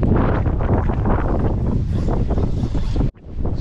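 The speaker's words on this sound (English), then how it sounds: "So windy out here today" Heavy gusts of wind buffet the microphone outdoors in a loud, rumbling roar that stays constant, then briefly drops out near the end before returning.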